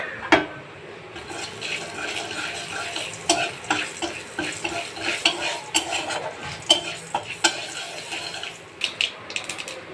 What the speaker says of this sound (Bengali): তেলের ভিতরে আমি সরিষা আর জিরে দিয়ে দিচ্ছি ফোড়ন।